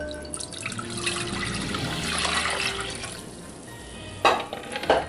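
Water poured into a container as the first step of homemade Kahlua, a steady splashing, trickling stream running for several seconds, then a couple of sharper sloshes near the end.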